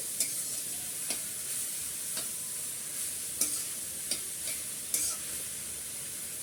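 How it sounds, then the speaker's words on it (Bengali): Dhekir shaak greens and spices are stirred in a hot pan, with a steady low sizzle broken by several sharp scraping strokes of the spoon, close and fairly quiet, with no talking. "শাকটা দিয়ে আমি আগে একটু নেড়ে চেড়ে নিচের মশলাটা উপরে উঠিয়ে নিচ্ছি"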